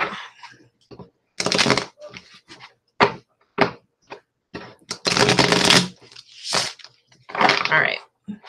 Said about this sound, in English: I'm going to do a rifle, and then I'm going to cut the deck.